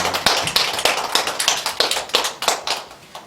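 Church congregation at a Sunday worship service clapping in unison, loud rhythmic claps in a steady beat of about three per second, close and distinct with no talking.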